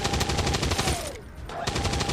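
Sustained suppressing machine-gun fire in XCOM 2, a loud, rapid, continuous rattle of shots that dips briefly midway before resuming at full force.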